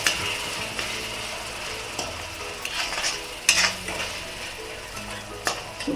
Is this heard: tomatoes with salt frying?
yes